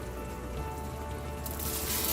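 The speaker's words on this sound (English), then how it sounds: "We're going to add the soaked rice" Soaked rice drops into a pot of boiling water for mutton dum biryani, a soft bubbling, crackling patter that grows brighter and louder in its second half.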